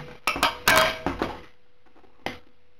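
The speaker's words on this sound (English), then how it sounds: "Use only the outer chamber, drop in the lid" A metal lid dropped into the outer chamber of a Bushwhacker alcohol stove, giving a cluster of sharp metallic clanks and rattles as it settles, then a single fainter clink a moment later.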